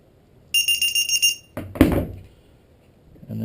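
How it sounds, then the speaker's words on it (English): LiPo battery alarm on a homemade tricopter sounding a rapid series of sharp, high electronic beeps when plugged in, followed by a brief clatter, then quiet. "Plug in your LiPo alarm."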